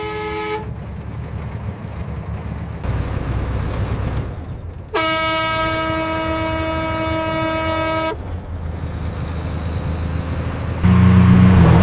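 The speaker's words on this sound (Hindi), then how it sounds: "हॉर्न दो" A truck horn honks in several long sustained blasts with a steady tone, loud and close, over road and engine noise.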